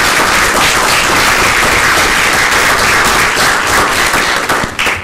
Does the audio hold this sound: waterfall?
no